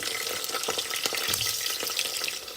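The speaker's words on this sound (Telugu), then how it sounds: "ముందుగా మన దగ్గర ఉన్న ఆల్ స్పైసెస్ వేసేసుకొని లైట్గా ఫ్రై అయినాక ఆనియన్స్ వేసేసుకున్నాం" Whole spices and onions frying in a pressure cooker for mushroom curry, a steady broadband sizzle with light stirring clicks and scrapes throughout, close and fairly loud with no talking.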